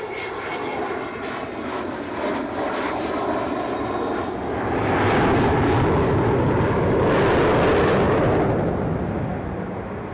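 A large aircraft with its landing gear down, all 18 wheels, comes in to land. Its engines give a loud, steady roar that swells into a heavier rumbling surge as it passes near.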